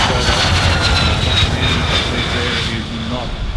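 A Lockheed Martin F-35A jet flies at an airshow during aerodynamic braking, its engine a continuous loud roar with a faint shifting whine, while a commentator talks over it throughout.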